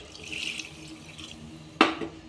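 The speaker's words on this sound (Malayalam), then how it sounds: "നമുക്കിനി വെള്ളം ഒഴിച്ചു കൊടുക്കാം" Water poured from a glass into a pot of chicken curry, a soft splashing trickle close by that ends in a brief sharp clink.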